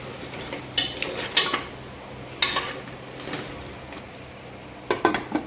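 A spoon stirs mutton paya curry, goat trotters with chili powder and garam masala, in a pot, giving several close, intermittent scraping strokes with quiet pauses between them.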